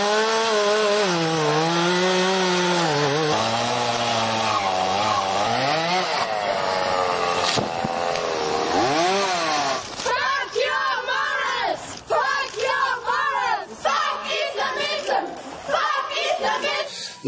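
A chainsaw cuts through a wooden cross, first with a loud sustained whine whose pitch rises and falls, then with choppier revving bursts, while voices chatter beneath it.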